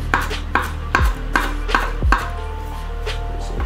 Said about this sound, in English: So we chop this up.